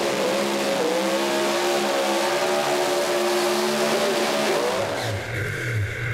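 A drag racing car engine roars at Adelaide International Raceway during a national drag racing grand final, a loud sustained drone with wavering pitch as the throttle is feathered, shifting near the end.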